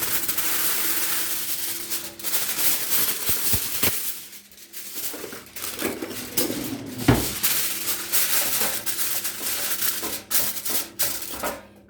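Aluminum foil being torn and pressed to line a baking pan or sheet, crinkling and rustling close by with sharp ticking clicks and a few clattering knocks, no talking.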